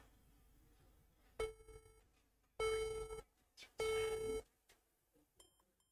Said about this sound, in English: I'm having a beep, like to indicate the RAM has got a problem or what?